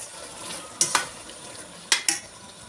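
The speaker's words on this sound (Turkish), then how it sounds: "Yemeğimiz güzel kavruldu." Meatballs with peas sautéing in a pot: a soft continuous sizzle broken by two pairs of sharp metallic scrapes or taps from stirring, close and clear.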